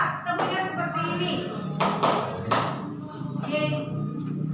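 A group clapping a two-clap pattern, a couple of quick bright claps in the middle, with a teacher's voice talking before and after.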